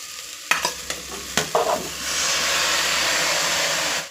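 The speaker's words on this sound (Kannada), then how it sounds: "ಇವಾಗ ಇದಕ್ಕೆ ನಾನು ಆಲೂಗೆಡ್ಡೆ ಮತ್ತು ಬದನೆಕಾಯಿಯನ್ನು ಹಾಕ್ಕೊಳ್ತಾ ಇದ್ದೀನಿ" Potatoes and brinjal tipped into frying sprouted horse gram: several close clattering knocks and scrapes of stirring, then a loud, steady hissing sizzle that swells and holds, with no talking.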